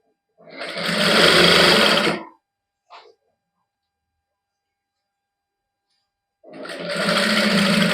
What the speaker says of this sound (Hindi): आस्ते आस्ते आप सारी सिलाई ला लेंगे